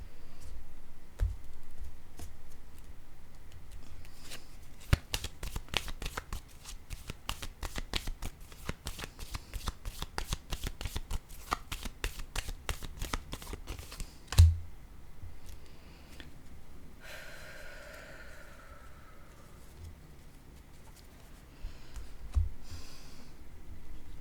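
Playing cards shuffled and riffled in a rapid run of crisp flicks, then a sharp tap as one is set down, followed by softer sliding and handling, faint and close in a quiet room.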